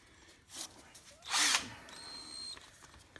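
A power drill spins an acorn-style nut off a front engine mount bolt on a 1947 GMC truck, giving a loud whirring burst near the middle of the clip. A brief high whine follows amid a quieter shop background.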